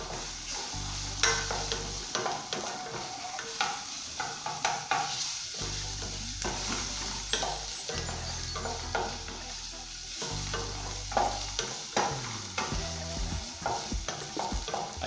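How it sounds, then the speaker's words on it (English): Crushed garlic frying in a pan while being stirred, a close, steady sizzle with repeated scraping and clinking strokes of a spoon, fairly quiet overall and without any talk. "add your garlic, your crushed garlic, and mix it well."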